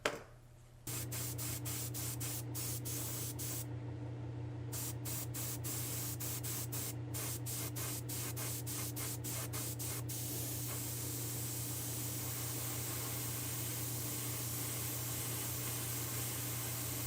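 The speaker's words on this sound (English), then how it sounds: "then we'll go spray that red" Steady hiss of red spray paint from an aerosol can on a vintage Matchbox toy van, a short puff first, then a long continuous spray with a low hum underneath, no talking.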